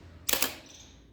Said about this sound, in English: now the mirror is released and the shutter is fully fired